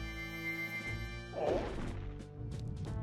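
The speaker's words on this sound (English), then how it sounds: "Can you try smashing this barrel?" A barrel smashes in the video game Majora's Mask: a single loud crash and splintering burst halfway through, set over steady game music, followed by lighter clattering afterward.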